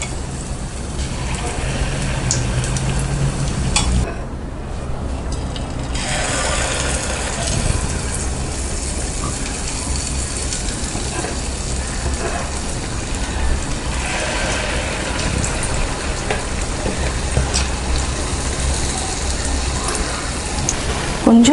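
Kandarappam batter deep-fries in oil on a low flame, giving a continuous dense crackle and sizzle that holds steady throughout with no pause.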